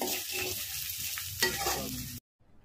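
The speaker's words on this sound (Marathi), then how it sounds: "बघा आपला मसाला मस्त भाजला आहे" Masala for a fish fry sizzles steadily in a hot pan with a stirring scrape midway, loud and close, then cuts off abruptly.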